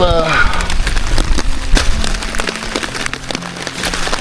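Rain patters steadily at a wet-weather campsite beside a cargo trailer set up for off-grid camping, a dense crackling hiss of drops that continues while a person talks over it.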